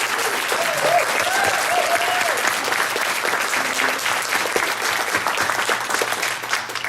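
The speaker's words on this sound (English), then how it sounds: "let's give them a round of applause for the service they give to our country" A crowd at a Girl Scouts of Southwest Texas gathering gives sustained applause for military members, a dense, even wash of clapping with a few cheers or whistles rising above it.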